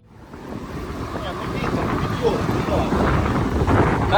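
Steady wind buffets the microphone during an uphill climb on a 300 km cycling brevet, a low rumbling roar that grows louder over a few seconds, with no clear voices.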